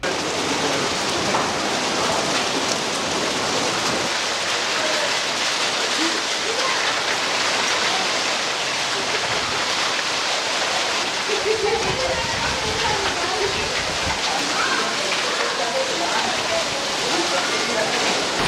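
Hail and heavy rain pour down in Tenali, a dense, steady broadband patter that stays loud and continuous throughout, with faint voices in the background.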